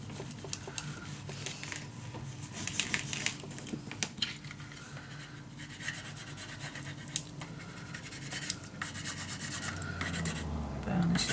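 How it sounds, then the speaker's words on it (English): Folded paper being burnished flat onto a handmade secret storage book, heard as soft, steady rubbing and scraping strokes up close, quiet and continuous, with no voices. "Burnish it down."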